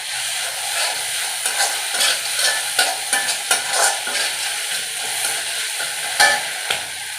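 Peanuts stirred into a partly cooked tomato mixture frying in a pan for sago khichdi, with steady sizzling and repeated scraping stirs of a spoon, close and fairly loud throughout, no talking.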